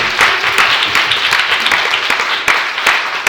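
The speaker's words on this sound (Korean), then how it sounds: "모든 분들께 한번 격려의 박수를 드립니다" A church congregation gives a round of applause during a Korean-language revival worship service in Las Vegas: loud, dense clapping from many hands that continues steadily throughout.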